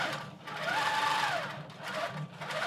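A longarm quilting machine stitching a quilt runs steadily and close, a rapid even mechanical whir with a brief rising and falling pitch as it moves across the fabric.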